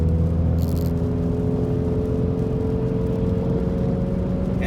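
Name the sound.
2017 Mustang EcoBoost 4-cylinder engine accelerating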